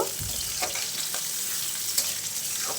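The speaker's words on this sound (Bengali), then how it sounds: "পেঁয়াজ কুচিটা একটু ভেজে নেব" Chopped onions sizzle and crackle steadily in a hot pan, a continuous close frying hiss with small pops and occasional stirring scrapes.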